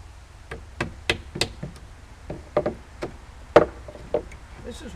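Hammer blows drive nails into wood while closing in porch stairs, a series of sharp, close, irregular strikes with brief pauses between them.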